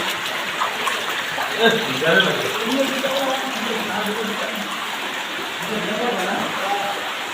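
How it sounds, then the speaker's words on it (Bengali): A steady rush of flowing water fills an enclosed, echoing space inside Alutila Cave, Khagrachari, and a voice speaks briefly over it partway through. "স্রোতের শব্দ"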